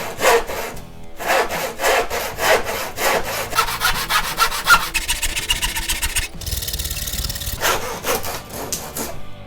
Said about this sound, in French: je vais juste prendre ma scie un peu plus classique là que j'ai pour essayer sur ce morceau là